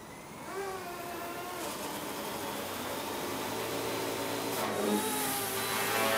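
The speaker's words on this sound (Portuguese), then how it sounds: "Acionar o motor." A small FW200 RC helicopter motor spins up indoors, a steady whirring whine with rising tones that builds gradually and holds loud and close throughout, with no talk.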